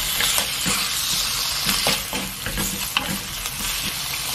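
Squid stir-frying in a pan of cooking oil with a little garlic, a loud continuous sizzle broken by scraping stirs and clacks of a utensil, close and without voices.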